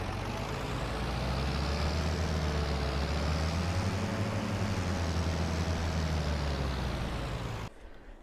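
A tractor engine in Farming Simulator 22 roars at a steady high rev, a loud continuous drone that drops off abruptly right at the end.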